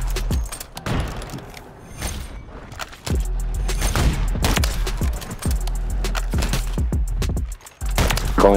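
Rapid bursts of Call of Duty video game gunfire crack and thump in quick succession, loud and punchy, with short pauses between volleys.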